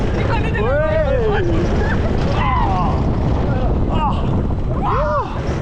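Riding the Lost Gravity roller coaster, a Mack Rides Big Dipper at Walibi Holland, brings loud, continuous wind rush with riders whooping and shouting over it in bursts.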